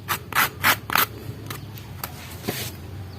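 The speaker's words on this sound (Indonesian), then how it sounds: "sobat bisa gunakan amplas, gosok mengikuti pola yang sudah kita gambar tadi" Sandpaper rubs against a small workpiece, likely a tiny carved fishing lure, in a run of quick rasping strokes, then slower scattered scrapes, close and clear.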